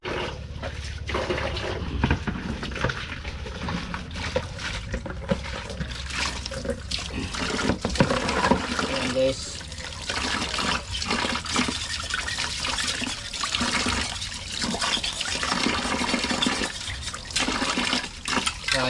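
Kitchen faucet running steadily during dishwashing, a continuous rushing stream of water with clatter from dishes and splashes under it, close and constant for the whole stretch.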